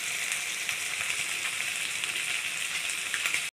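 Small fish with komli greens fry in a pan, giving a soft, even sizzle with fine crackle, steady and close but fairly quiet, with no voices.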